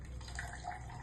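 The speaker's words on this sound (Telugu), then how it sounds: "ఇదిగోండి వాటర్ వస్తున్నాయి" Water runs from a switched-on portable water dispenser, a faint, close trickle with soft dripping tones and no voices.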